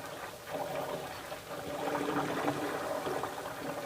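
Ghee bubbling in a pan as it cooks, a steady soft crackle and fizz of boiling liquid close by and fairly quiet, with no talking.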